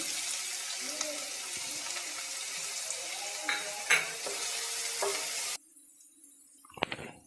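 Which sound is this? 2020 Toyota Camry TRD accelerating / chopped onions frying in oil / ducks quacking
chopped onions frying in oil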